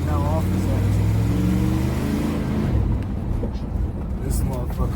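A 1994 Chevy Tahoe 1500 AWD 4x4 truck accelerates hard, its engine note climbing in a loud rising drone from inside the cab before easing off, with someone talking over it.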